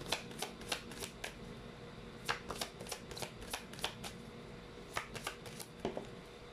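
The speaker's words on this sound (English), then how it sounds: "Let's try to pull up the Chinese fortune cards now" Chinese fortune cards are shuffled by hand, giving a quick run of crisp riffling flicks in uneven bursts, close and fairly quiet.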